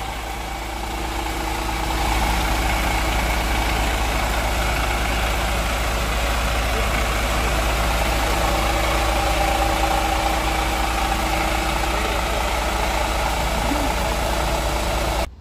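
A brand-new Mercedes Tourismo coach engine idles with the engine hatch open, a steady deep rumble with a faint knocking texture, loud and close, running continuously until it cuts off at the very end.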